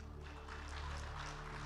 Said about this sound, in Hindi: ऐसे ही पड़पड़ ताली बजा दी है